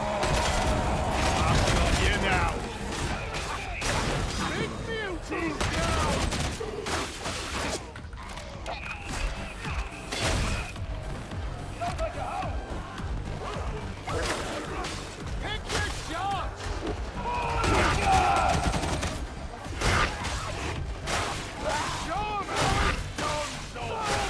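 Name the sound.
gunfire from a gun in a video game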